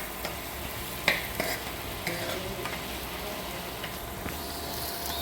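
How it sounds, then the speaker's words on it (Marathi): Potatoes sautéing in a pan for hotel-style Puneri misal: a continuous moderate sizzle broken by occasional spatula taps and scrapes against the pan. "त्याच्यामध्ये मी थोडेसे बटाटे टाकत आहे. त्यालाही छान असं परतून घ्यायचं."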